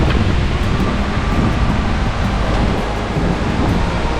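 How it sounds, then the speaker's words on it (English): Strong wind buffets the microphone on a steep hiking trail with stairway-like steps, a loud, steady broadband roar that swells and dips slightly throughout, with no talking. "that wind's really blowing"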